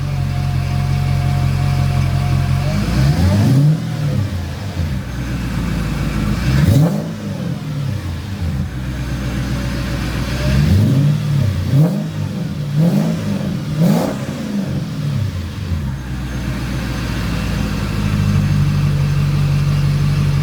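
A Mercedes CLK55 AMG with an M113K engine idles loudly, then gets several quick throttle blips, each rev rising and falling sharply in a rhythmic series before settling back.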